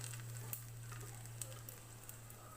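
A green chili sizzles in a hot pan while apple chutney cooks. Soft crackling hiss and scattered small pops run over a steady low hum, quiet and close, with no talking.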